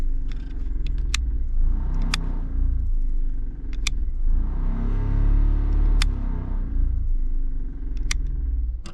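A Jeep XJ engine idles with the ignition on, giving a steady low rumble throughout, while sharp, separate clicks and taps from switch work sound close by.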